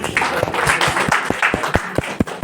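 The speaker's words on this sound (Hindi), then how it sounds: "तालियां हो जाए भाई" An audience at a Vikasika Diwas 2024 ceremony applauds with a burst of sharp, uneven hand claps, loud and close, for a couple of seconds.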